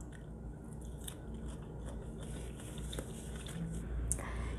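A crisp, firm American strawberry is bitten and chewed close to the mic, giving a run of soft crunching clicks over a steady background hum.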